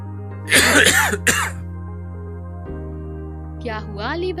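A man coughs harshly two or three times up close, then after a pause gives another short throat-clearing cough, over a steady low hum.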